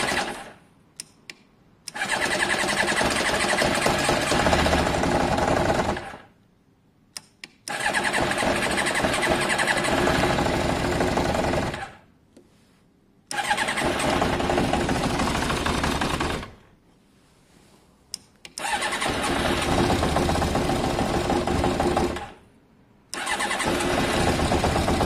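Yamaha XJ600 street-fighter-style motorcycle engine cranking and firing up with the choke on and a slightly low battery, in several separate bursts of loud running broken by short silent gaps.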